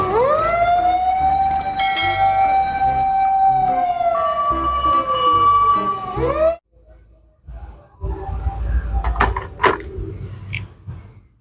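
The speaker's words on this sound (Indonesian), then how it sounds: "Di sini ada mobil pemadam kebakaran." A fire truck siren wails loudly in a long rising and falling tone for several seconds, then cuts off, followed by rumbling noise and scattered clatter.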